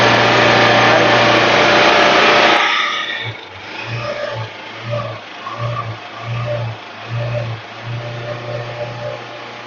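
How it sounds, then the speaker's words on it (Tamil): A used 2013 load vehicle with a standard DI diesel engine runs close by, a steady loud drone that drops suddenly to a softer, pulsing idle with rhythmic low throbs. "வண்டி சும்மா சீருது"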